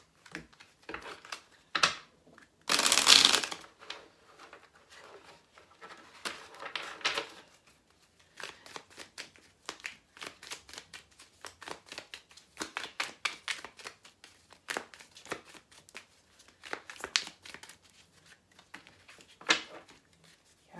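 Tarot cards being shuffled by hand: one loud, dense riffle burst early on, then a long run of soft, scattered card slaps and taps at close range, with no talking.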